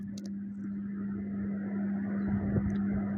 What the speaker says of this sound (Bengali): এখন মিক্সিটা একটু ঘুরিয়ে নিয়ে আসি